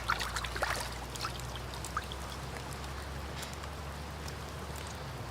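Running water pours and splashes steadily over a freshly gutted and beheaded river trout as it is rinsed clean, a continuous close trickle with small irregular drips and no talking.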